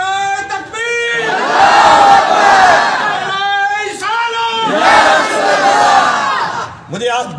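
A large crowd roars a religious takbir slogan in unison at a rally, loud massed voices rising in two long swelling bursts with a brief gap between.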